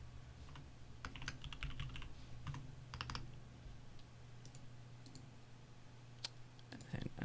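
Computer keyboard typing comes in scattered bursts of light clicks over a steady low hum, moderately close and fairly quiet, with brief pauses between keystroke runs.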